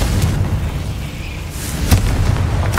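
A Confringo spell explosion in Hogwarts Legacy lands as a booming blast over a steady rumbling game background, with a second sharp burst near the end.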